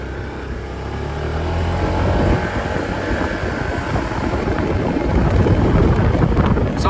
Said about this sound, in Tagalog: So ngayon, niro-road test natin itong ADV 160.